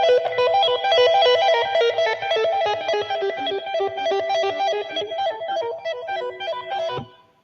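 Distorted electric guitar plays a fast arpeggio lick, notes rolling up and down steadily and loudly on their own for about seven seconds before cutting off.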